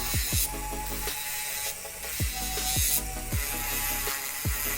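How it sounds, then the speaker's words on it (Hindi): Electric nail drill grinding off gel nails, a close buzzing whine with rhythmic ratcheting clicks as the bit meets the nail surface. "तो उसको ड्रिल करते करते आप देख सकते हो इसकी आवाज़ कैसी आती है।"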